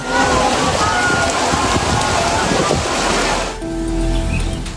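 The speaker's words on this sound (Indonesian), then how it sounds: "angin kencang disertai hujan deras" Heavy rain driven by strong wind roars loudly and steadily, a dense broadband wash that suddenly thins near the end as a different, calmer background takes over.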